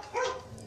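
A dog gives a short, fairly close bark or yelp indoors, a brief burst in a quiet room, heard while a glass jar is being decorated.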